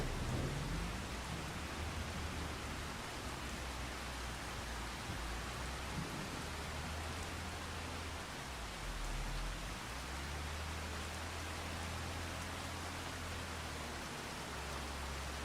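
Steady, dense rainfall fills the whole stretch as a continuous wash, with deep thunder rumbling low underneath and swelling now and then; no voices.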